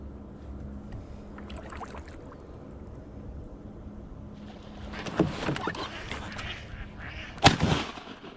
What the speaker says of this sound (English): Some mallards in there too, it looks like. Definitely some mallards. You could hear them.